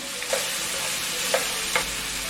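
Steady sizzling of meat stir-frying in a pan with oil, with a few soft scraping stirs now and then, close and moderately loud.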